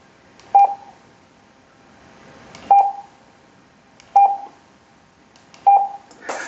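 An Alinco DJ-MD5 handheld radio gives four short, evenly spaced beeps as it scans, clear against a faint hiss.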